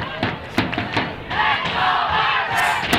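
Spectators at a Har-Ber versus Springdale high school soccer match roar and chant loudly, with sharp rhythmic claps or stomps and sustained crowd yelling throughout.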